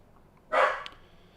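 A dog barks once, a single short bark heard at a moderate distance against a quiet indoor background.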